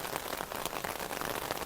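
Steady, dense rain falls in the mountains of Manali during the 2025 floods, a constant close hiss of drops on surfaces with no pauses and no voices.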